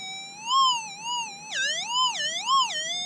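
A warbling electronic tone from a Minelab SDC 2300 metal detector rises and falls repeatedly in pitch, steady and fairly soft, with no voices; a faint target about 3-4 inches down.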